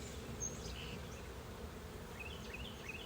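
Honeybees buzz in a steady, faint drone around an open hive during an inspection, with no voices.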